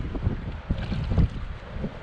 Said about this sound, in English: and it's windy.